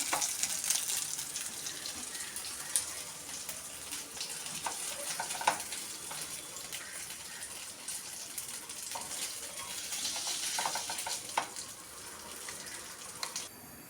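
Mackerel fries in oil in a pan, giving a steady close sizzle and crackle throughout with a few sharper pops, and no talking.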